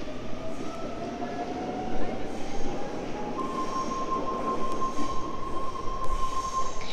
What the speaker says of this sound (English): And passing platform 2 is a B set.